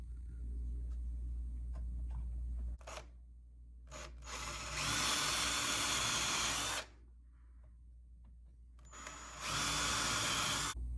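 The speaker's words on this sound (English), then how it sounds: "so I'm gonna pre-drill" A power drill pre-drills holes for large screws when mounting a whole house water filter canister, with several loud bursts of whining drilling separated by pauses and a low steady hum underneath.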